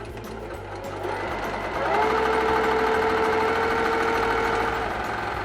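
A Baby Lock Jane sewing machine stitches slippery, slinky fabric with a steady motor whir and rapid needle chatter that grows louder and faster after the first couple of seconds and then holds an even pace.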